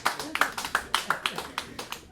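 A standup comedy audience claps in a brief, thin burst of about a dozen quick, evenly spaced claps, fairly faint and close.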